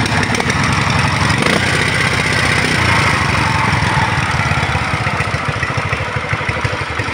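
A used Japanese pull-start gasoline engine runs loud and close, holding a steady, fast mechanical chugging throughout with no talk over it.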